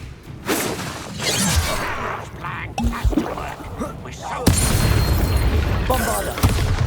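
Bombarda spells blast in Hogwarts Legacy combat. There are several sharp explosive bursts with shattering debris, the loudest arriving near the end, mixed with a brief voice casting.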